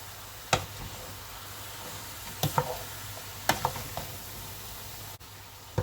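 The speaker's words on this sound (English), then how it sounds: "And stir this in." A spoon stirs chicken and cabbage curry in a pan, making a few brief, quiet scrapes and knocks spaced seconds apart over a low, steady background.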